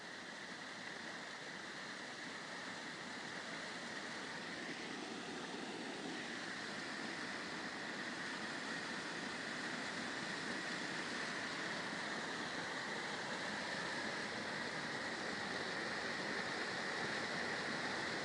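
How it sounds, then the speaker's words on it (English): A continuous broad rush of fast-running water from a canal overflow swollen by heavy rain, steady and fairly loud, with no voices. "Have a nice sound of running water. I'll just show you the sound of running water."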